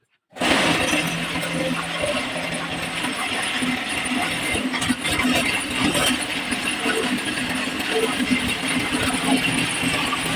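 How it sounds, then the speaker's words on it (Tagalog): A hollow block making machine runs loud and steady, with a dense clattering, rattling roar that starts abruptly and continues throughout, and no voices. "ipapakita ng operator kung paano niya isasalansan yung mga bracket na huhulma doon sa hollow block gamit ang makina"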